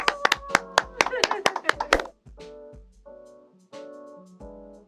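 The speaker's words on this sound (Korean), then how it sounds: "박수!" A few people clap quickly for a guest, a goalkeeper coach, in a studio talk show, a short burst of sharp claps lasting about two seconds, followed by speaking voices.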